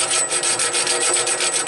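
Close, steady hand filing of a Woodmizer LT15 bandsaw blade, a loud, continuous metallic rasp with a regular back-and-forth stroke rhythm and no talking.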